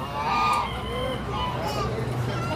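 Roosters and hens for sale at the Canton, Texas flea market give off honking, crowing calls amid outdoor crowd murmur, fairly close and mixed with background voices.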